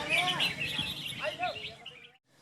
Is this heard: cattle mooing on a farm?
no